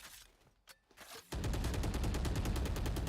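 Valorant gunfire starts with a few scattered shots. A loud, rapid burst of automatic fire follows and keeps going steadily to the end, close and dominant.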